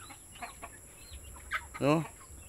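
A hen with a large brood of about twenty-one chicks clucks softly in a few scattered bursts, then gives one louder, drawn-out call near the end over a quiet background.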